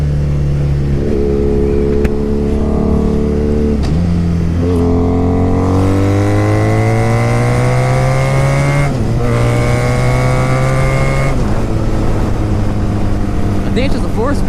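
A 1987 Honda Super Magna motorcycle accelerates hard through the gears, its loud engine note climbing steadily in pitch, dropping at each shift, then rising again, with the rider speaking over the engine noise.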